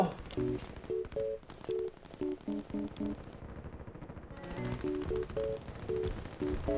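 Cannon and gun fire in the video game Line War comes as clusters of sharp, quick shots mixed with short repeating electronic tones, moderately loud and pausing briefly midway.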